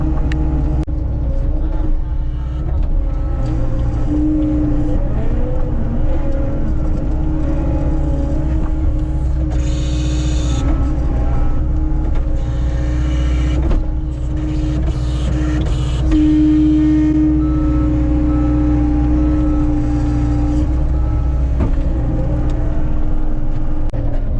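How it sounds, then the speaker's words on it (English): Skid steer loader working in cattle pens on a farm: a continuous droning diesel engine with a steady hum and occasional higher whines and clatters as it moves and works, running close and loud throughout. "just use the skid steer because this doesn't tear it up hardly at all"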